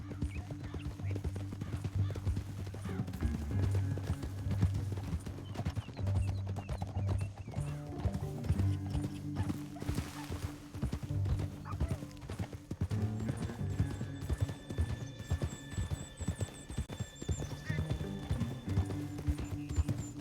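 Rhythmic clip-clop of galloping horse hooves in the video game Red Dead Redemption 2, steady and close, with an occasional whinny and some background music.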